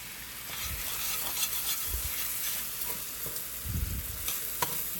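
Cooked rice with soy sauce being stir fried for chicken and vegetable fried rice, with a steady sizzle and repeated scraping strokes of a utensil against the pan, close and moderately loud, no talking.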